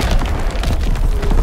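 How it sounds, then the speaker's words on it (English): Artillery explosion in Call of Duty: WWII during a Team Deathmatch on Aachen, a deep rumbling boom that fills the short clip with low, sustained weight and no clear separate hits. "Incoming enemy artillery. Get to cover."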